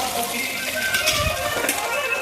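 Radish sizzles and fries in a pan with a soft, steady crackle, stirring scrapes and clinks breaking through, under a speaking voice.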